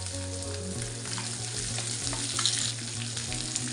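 Fish frying in oil in a pan over medium heat, a steady close sizzle and crackle running throughout with no talk.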